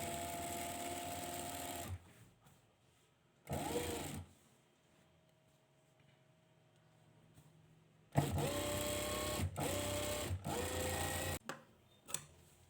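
A sewing machine stitches a straight seam at a tailoring bench, running in loud, steady bursts of about two seconds, a short run near four seconds and a long stretch from about eight to eleven seconds, with quiet pauses between runs.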